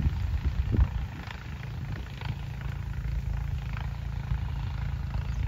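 A Farmtrac 60 tractor engine runs steadily nearby, a low chugging rumble that holds constant throughout.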